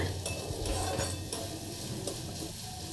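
Ingredients frying in a pan for fried rice and chana paneer masala, a steady close sizzle with stirring and scraping of utensils throughout, no talking.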